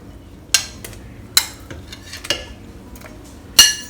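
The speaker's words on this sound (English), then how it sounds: "Now just give this a stir first." Spoon stirring seafood congee in a rice cooker pot, a few sharp metallic clinks and scrapes against the pot spaced over a low background hiss, close and fairly loud.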